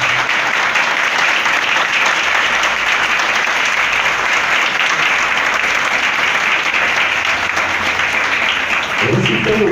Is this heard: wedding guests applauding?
yes